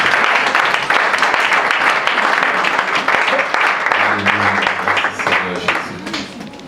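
A church congregation claps and cheers in praise, a loud, dense round of applause that fills the room, with a low voice and faint musical tones emerging beneath it toward the end as the clapping thins.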